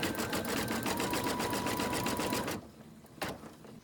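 Sewing machine zigzag stitching to join fabric placemat sections, a steady fast mechanical whir that runs for about two and a half seconds and then stops, followed by one short burst.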